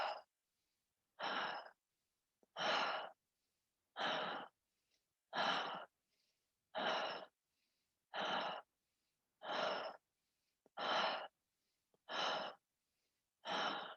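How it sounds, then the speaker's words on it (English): Slow, deep breaths during a guided breathing exercise, about ten evenly spaced breathy exhalations, each lasting roughly a second and separated by silent pauses. The breaths are close and soft, with no other sound. "play with your breath here, deepening it"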